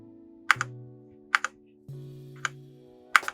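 Keys on a Surmen GT61 60% hot-swap wireless mechanical keyboard are pressed in a handful of sharp, separate clicks, often paired, heard close and clear over a low steady electronic hum with no talking.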